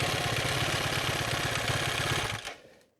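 A Husqvarna motorcycle engine idles close by with a fast, steady putter, then the sound cuts off and fades to quiet near the end.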